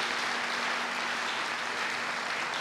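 Congregation at a church service applauding, a steady dense wash of clapping that stays even and continuous throughout, with no voices standing out.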